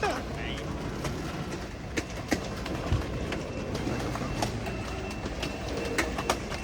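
Amtrak San Joaquin train slowing to a stop at Martinez station, a quiet low rumble with scattered clicks and a brief brake squeal, birds and a voice faintly present.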